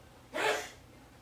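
A single short sneeze bursts out against a quiet room, over in well under a second.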